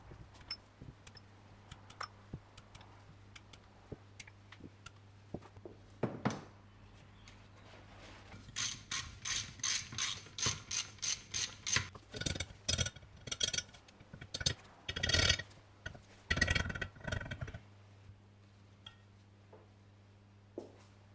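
Small metal parts clicking and clattering as lifters come out of an 80s Saab 900 engine during a rebuild, quiet scattered ticks at first, then a busier run of close rattles and taps.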